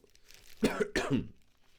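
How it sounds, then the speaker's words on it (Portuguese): Two harsh, close coughs in quick succession, then quiet. "Eu preveni vocês do medo da minha tosse"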